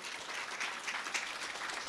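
An audience at an indoor award and felicitation ceremony applauds with steady, dense clapping at moderate volume throughout.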